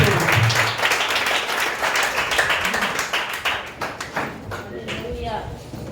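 A church congregation applauds during a worship service, a dense, steady wash of clapping that fades somewhat toward the end, with voices rising over it.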